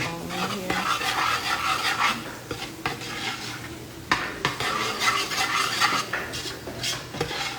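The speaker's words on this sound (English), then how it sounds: "Stir it on in here." A spoon stirs roux and soft vegetables in a pot for Louisiana bayou-style gravy, scraping and clinking against the metal in a steady, busy rhythm with a faint sizzle underneath, close up and without talk.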